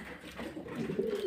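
Fancy pigeons such as blue-bar and white Mundian breeds coo softly at a farm in Faridpur, a low continuous murmur of several birds close by, rising slightly toward the end.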